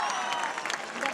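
Audience applause at an outdoor music event in Mussomeli, Sicily, a brief burst of dense clapping from a crowd with some voices mixed in.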